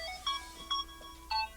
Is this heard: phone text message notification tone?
yes